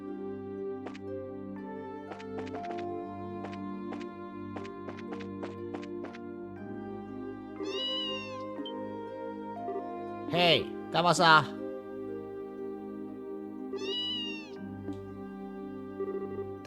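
A wheat-colored cat meows in the role-playing game Trails in the Sky SC, a few distinct mews and a sharper pair of cries rising over soft game music, with a voice speaking briefly partway through.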